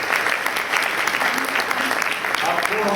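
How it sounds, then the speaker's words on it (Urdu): Congregation in a church service applauding, a dense steady burst of clapping from many hands, with voices mixed underneath. "تالیاں بجائیں"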